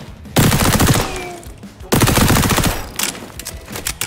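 Rapid automatic gunfire from an MP5 submachine gun in the shooter game XDefiant, two long sustained bursts with a shorter spurt near the end, loud and close, with no speech.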